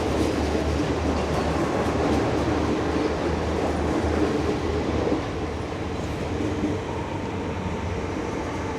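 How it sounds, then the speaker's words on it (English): A suburban train on the Pakenham line rumbles past close by at Richmond station, a continuous heavy roar of wheels on rails that eases slightly toward the end. "Another train going to East Pakenham."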